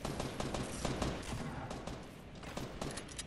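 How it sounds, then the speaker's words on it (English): Shotgun fire rattles in a Fortnite battle royale match as a quick string of sharp, overlapping gun blasts, dense and fairly distant-sounding, with no clear talking over it. "How'd you shotgun him from that far, Chris?"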